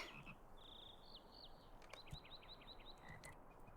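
A frog in the fantasy video game LOTRO croaks in a rapid series of short, chirpy calls, fairly faint over a steady soft outdoor ambience with a few clicks.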